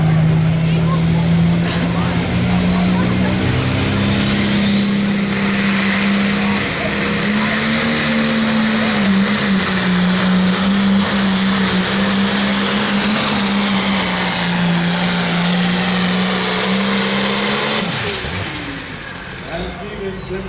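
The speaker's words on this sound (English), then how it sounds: "an awesome tractor, a new tractor recently out on the tour. Massive RPM and a ton of horsepower about to come our way" A 9,500 lb limited pro pulling tractor at a Monticello, Iowa tractor pull roars down the track, its loud engine holding a steady high drone and shifting pitch before dropping off near the end, with an announcer talking over it.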